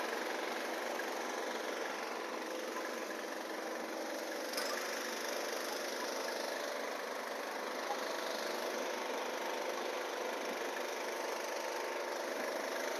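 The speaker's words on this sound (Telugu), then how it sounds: "ఫైర్ అయితే వెలిగించినారు ఇప్పుడు. వేడిని అయితే వేడి చేస్తున్నారు." A hot air balloon burner in Araku valley fires to heat the envelope, giving a continuous, fairly faint roar that holds steady for the whole stretch without pauses or talk.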